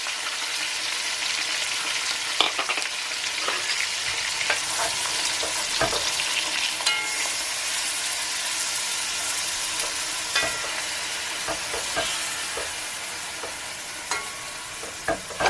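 Chopped onion and garlic sizzle loudly in a pot as the base for a lemony beef stew, a bright, continuous hiss with scattered crackles and occasional stirring knocks, no voices.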